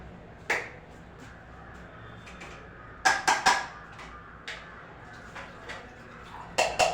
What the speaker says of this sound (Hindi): यहाँ पर बर्तन वगैरह साफ़ कर रही हूँ, दूध के, चाय के जो भी बर्तन हैं वो